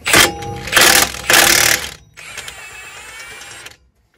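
A 14mm 12-point socket works loose the spindle nuts on a Dodge Ram 1500 front end: three loud, close mechanical bursts, then a steadier whirring rattle that runs for over a second before stopping.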